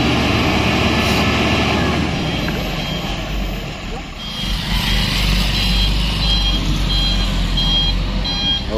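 The engine of a Fuso truck drones steadily and loudly during a towing attempt, with a repeating reversing beep in the background and people talking.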